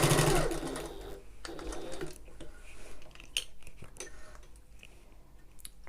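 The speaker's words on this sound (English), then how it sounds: "back stitching at the start and the end" A sewing machine stitches a 6mm seam on an open top tote, back stitching at the start and end; a loud whirring burst opens, then lighter intermittent running with small clicks and handling noises.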